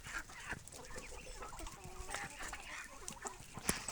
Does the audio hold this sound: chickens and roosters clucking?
yes